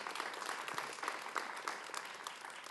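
Audience applause at a Calgary Ward 7 municipal candidates' debate, a fairly faint, thinning spread of individual claps with some distinct sharp hand strikes standing out, no speech over it.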